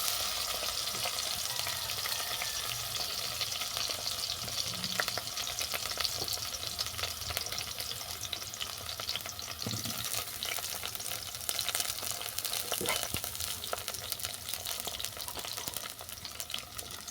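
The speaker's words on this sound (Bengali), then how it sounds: "কড়ার মধ্যে দিয়ে দিলাম সাদা তেল তেলটা গরম হয়ে যাওয়ার পর বেগুনটাকে তুলে দিচ্ছি" Eggplant pieces fry in hot white oil in a wok, a steady close sizzle and crackle running the whole time with occasional soft clicks of stirring, and no voices.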